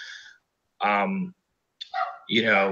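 A man imitates a dog barking with his voice, giving four short separate bark-like yelps with gaps between them, close and clear during a podcast conversation.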